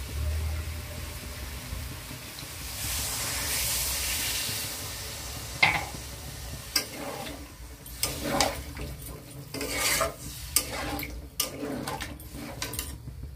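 Water poured into a sizzling spice mixture for aloo dum, a broad hissing rush building for a few seconds, then scattered clinks and stirring knocks with lingering sizzle; no talking.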